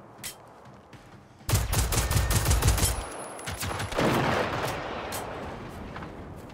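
Gunfire in the video game Generation Zero, a quick burst of rapid, loud shots followed by scattered single reports and fading echoes, with no talking.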